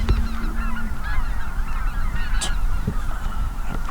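A large flock of snow geese honks continuously at a distance, many overlapping calls forming a dense chorus with a few louder nearby cries standing out, out in a field before shooting light.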